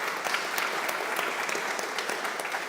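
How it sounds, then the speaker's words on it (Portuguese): Congregation applause fills a church, steady dense clapping at moderate loudness across the whole moment with no talk over it. "Pode aplaudir a palavra do Senhor."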